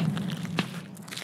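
Footsteps on stairs in the video game Escape From Tarkov, a brief run of muffled, heavy steps under steady background noise.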